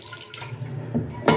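Tamarind is washed in water by hand, giving close soft sloshing and swishing with a louder splash near the end.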